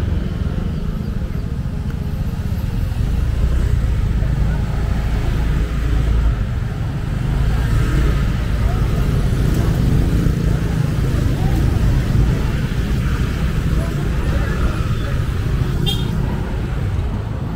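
A car drives through busy street traffic in Bali, with a continuous loud engine and road rumble, passing motorbikes and an occasional horn toot.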